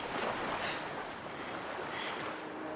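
Dark ocean waves washing ashore in the animated film Elio, a steady, loud roar of surf and rushing water throughout, with no voices.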